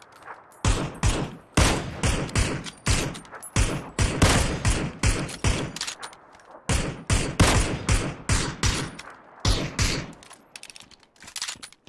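Rapid bursts of automatic gunfire from a PUBG match, sharp repeated volleys firing in quick rhythmic clusters with brief gaps between, loud and close throughout.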